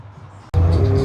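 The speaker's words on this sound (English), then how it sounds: "have the cars fly by, so you guys will get the exhaust sounds" A supercar at a small car meet blasts past after a brief quiet moment, its exhaust bursting in suddenly and loudly, close up, with a roaring engine note.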